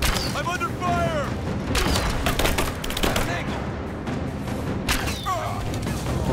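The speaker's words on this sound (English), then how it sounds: "I'm under fire!" Rapid gunfire rattles through a firefight in Rise of the Tomb Raider, loud and continuous with repeated booming shots layered over each other while a player talks over the shooting.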